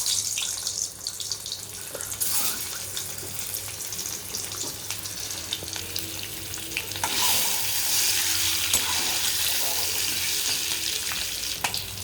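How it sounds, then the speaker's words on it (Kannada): Oil sizzles and fries steadily in a pan on a home stove, a continuous close crackle with brief louder bursts and faint clinks of utensils. "ಈಗ ಆಯಿಲಿಗೆ ಹಾಕಿ ಬಿಸಿ ಮಾಡುವ ಸ್ವಲ್ಪ."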